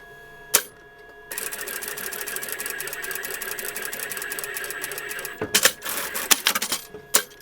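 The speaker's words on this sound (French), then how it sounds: "Je vais coudre tout le contour." A sewing machine stitches around the edge of a patchwork pineapple basket. After a single click, it runs in one long rapid rattling stretch, then gives shorter stop-start bursts.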